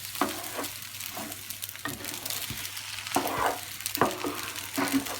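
An egg frying in a pan alongside Spam, with a steady close crackling sizzle and occasional scraping stirs of a utensil against the pan.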